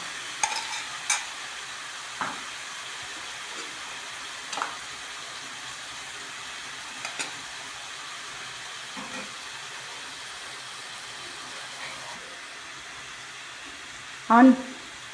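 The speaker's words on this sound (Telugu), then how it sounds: "ఆనియన్ పేస్ట్ వేగింది ఫ్రెండ్స్" Onion paste frying in a pan for a home-style chicken gravy curry gives a faint, steady sizzle. Occasional soft scrapes of stirring break through it, and a louder clatter comes near the end.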